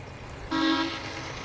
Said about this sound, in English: That's somebody with an air horn on land trying to communicate with the freighter.